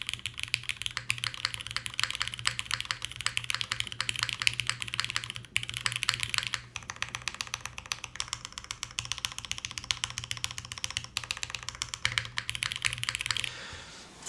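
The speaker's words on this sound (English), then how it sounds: "you can kind of feel some feedback while typing" Continuous typing on a mechanical keyboard fitted with Cherry Nixie switches in a gasket-mounted build, a steady close stream of crisp key clacks with brief pauses, stopping near the end.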